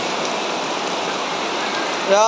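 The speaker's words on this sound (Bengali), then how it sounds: "বৃষ্টি আইছে না, পুরা লাভ হইতেছে।" Constant close rush of rain pattering on surfaces in Juri village, Lakshmipur, steady and loud, with a brief voice cutting in at the very end.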